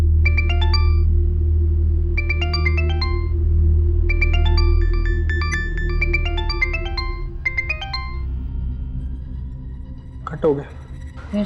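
A phone's electronic ringtone chimes in repeated bursts over a low hum, then stops as a brief clatter follows near the end.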